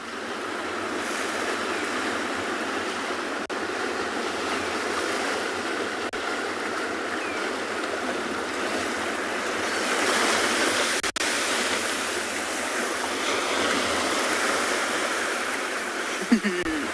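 Ocean waves break and wash steadily onto a shore at sunset, a continuous broad roar of surf with a louder surge partway through, close and fairly loud with some wind noise against the microphone.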